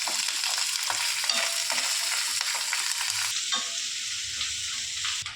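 Cumin seeds dry-roasting in a pan while being stirred: a steady close crackle and sizzle with soft scrapes of the spoon throughout.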